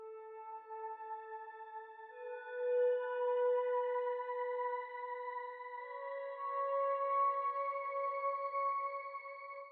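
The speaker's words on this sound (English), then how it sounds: "The last guitar part is this guitar shimmer swells track that sounds like this." Sustained guitar shimmer swells with heavy reverb, soft layered tones blooming slowly and overlapping, gentle and alone with no voices.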